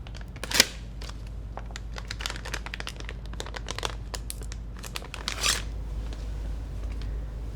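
New pack of guzheng string number 13 being unwrapped, a series of close, crisp crinkles and rustles of packaging with a few louder tearing crackles, quiet overall.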